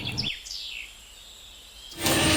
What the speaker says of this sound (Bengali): কত পাখিরা ডাকছে